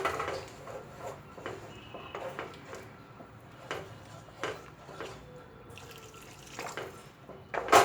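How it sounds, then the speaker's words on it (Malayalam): Boiling water poured into egg masala gravy in a home kitchen, with close, soft splashing and several sharp clinks of a vessel against a pan. "ഇനി നമുക്കിതിലേക്ക് തിളച്ച വെള്ളം ഒഴിക്കാം."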